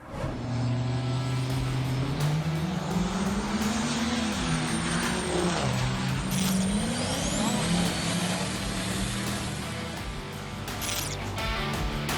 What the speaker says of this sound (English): Check out the highlights of the Knoxville Dragstrip Diesel Shootout.